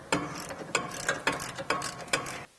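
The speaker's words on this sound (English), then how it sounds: "we're going to continue using our 16mm socket and remove these two nuts on each side of the bumper" A ratchet wrench with a 16mm socket turns bumper nuts on a Jeep Gladiator, giving five or six sharp, evenly spaced ratcheting clicks up close, with no voices.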